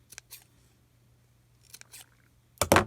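A few crisp snips of scissors cutting apart a purple sweater, two quick ones, a pause, two more, then a louder double snip at the end, close up with no talking.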